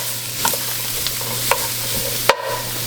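Holy Trinity vegetables for a Louisiana seafood gumbo sizzle steadily in a hot pan. A few sharp scrapes and knocks from stirring punctuate the frying, with a low steady hum underneath and no talking.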